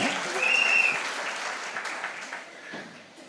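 Faint, thin applause from a few people at an outdoor TVK public meeting in Perambur, spread and distant, with a brief whistle near the start.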